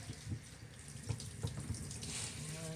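Water runs steadily from a tap during a home bath, a continuous moderate splashing stream that fills the space with no voices over it.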